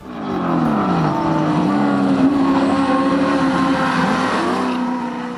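Historic Group A and C touring cars from the 1973–1992 era race past at a Sydney circuit, engines roaring loud and continuous, the pitch rising and falling as they pass, with occasional tyre squeal.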